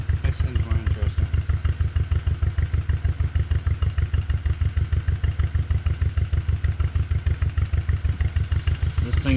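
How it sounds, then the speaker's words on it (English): An old tractor M engine idles with a fast, steady, loud chugging thump that beats evenly from start to finish, close by, with no voices over it. "I cannot say I've seen an under the belt under the seat belted tractor M starting procedure"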